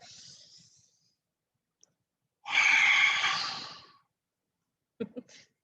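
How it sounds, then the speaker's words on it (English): A single forceful breathy exhale with the tongue out, a loud open "ha" lasting over a second, set between a softer inhale and a few small mouth clicks during chair yoga. "as you exhale, stick out your tongue and go ha"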